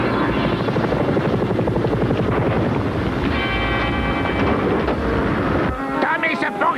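Helicopter in an animated action scene, a loud continuous rotor chop with a dense rumbling drone throughout, under music that fades near the end.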